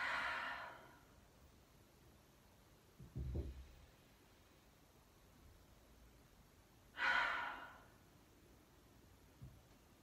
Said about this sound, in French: et expirer par la bouche.